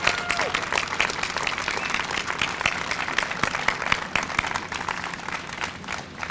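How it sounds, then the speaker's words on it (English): Audience at a community college health sciences building beam signing applauds steadily for the workers, dense clapping sustained throughout with some faint voices mixed in beneath. "So another round of applause for the amazing work these gentlemen have done."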